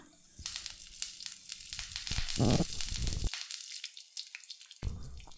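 Cumin seeds and curry leaves hit hot coconut oil in a pan, giving an uneven crackling sizzle with sharp pops and bursts and a short quiet gap partway through.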